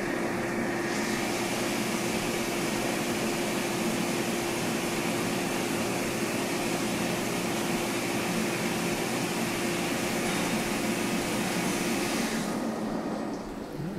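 A 1500MX CNC mill drills a tap hole into a steel tap with coolant flowing, making a steady, loud broadband whir and hiss with a constant tone. The sound runs nearly the whole time and eases off right at the end.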